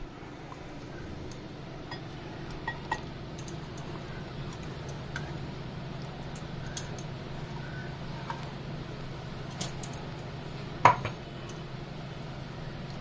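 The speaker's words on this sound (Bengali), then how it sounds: "একে ভালো করে তেলের মধ্যে মিশিয়ে দেব।" Ground spice paste stirred into mustard oil in a pan for a Bengali hilsa dish, soft utensil scrapes and occasional light clinks against the pan over a low steady hum, with one sharper clink near the end.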